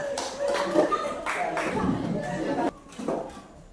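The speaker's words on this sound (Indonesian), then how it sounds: "tepuk tangan untuk semua" Classroom of students clapping for everyone after a concentration hand game, irregular bursts of clapping mixed with voices and shuffling, then a brief pause before more clapping.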